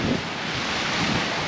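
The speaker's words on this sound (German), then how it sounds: "Aber wir hatten gerade 28 Knoten Wind und jetzt kommt hier richtig ein Regenschauer runter." Strong wind of about 28 knots and a heavy rain shower strike a sailing yacht crossing the Pacific toward Nuku Hiva in the Marquesas. A steady, loud, dense rushing roar fills the whole moment with no voices.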